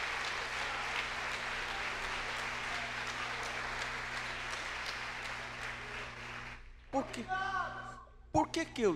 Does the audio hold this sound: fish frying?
no